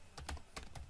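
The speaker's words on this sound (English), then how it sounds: "typing its password." A password being typed on a computer keyboard at an Ubuntu login screen: a short, quick run of about five crisp key clicks, close and clear with no voices.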